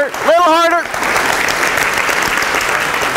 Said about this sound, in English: just start stomping your feet nice and firmly. Start clapping your hands.